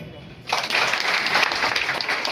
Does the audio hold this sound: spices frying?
no